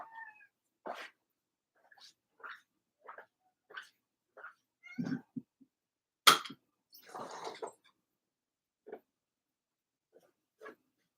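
A domestic cat meows repeatedly in short, separate calls, some louder and drawn out, close by in a quiet room with no talking.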